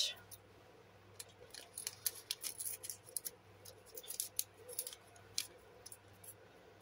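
Scissors snipping through paper while decorating a junk journal, a run of quick, close, crisp cuts in an irregular rhythm, quiet overall with faint speech at moments.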